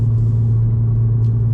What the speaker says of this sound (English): there is a lot of drone from the exhaust